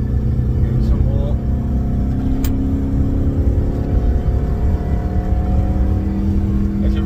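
A Mini Cooper car engine drones and pulls steadily under acceleration, a loud continuous low rumble heard from inside the car, with someone talking over it.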